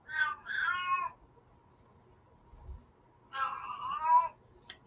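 An indoor house cat lets out two loud, wailing, multi-syllable meows, one at the start and another after a pause of about two seconds, close by against an otherwise quiet room.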